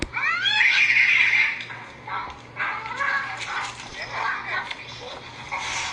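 Cats fighting, with rising yowls, snarls and hissing caterwauls layered over a steady low hum, fairly loud and continuous for several seconds.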